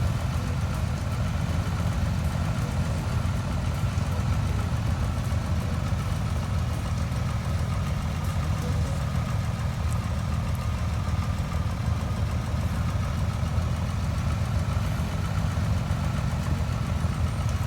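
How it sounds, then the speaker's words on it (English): A Cessna 170B idles in Microsoft Flight Simulator 2020, giving a steady, loud low engine drone with a constant rumble and no change in pitch throughout. "This airplane is loud."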